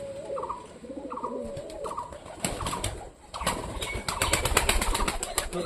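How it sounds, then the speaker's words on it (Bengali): Wild native pigeon cooing up close, a series of soft repeated coos in a regular rhythm, followed by fluttering, rustling handling noise that grows louder toward the end. "আমার তো মনে হচ্ছে প্রপার দেশি পায়রা বুনো পায়রা"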